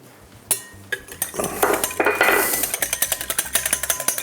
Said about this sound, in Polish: I za pomocą rózgi ubijamy wszystko na sztywną pianę